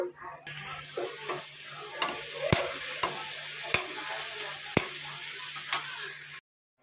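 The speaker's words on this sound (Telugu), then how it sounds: "ఆనియన్స్ వేసుకోవాలి వేసుకొని ఆన్ ఈ ఆనియన్స్ అనేది కొద్దిగా కలర్ చేంజ్ అయ్యేంత వరకు మనం ఫ్రై అనేది చేసుకోవాలి" Onions frying in a pan until golden while being stirred; a steady hiss with sharp spatula taps about once a second, ending abruptly, with no voices.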